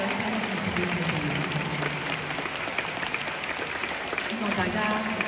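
Applause from the audience at a singer's thank-you concert continues as a steady, moderately distant clatter of hands, with a voice speaking over it.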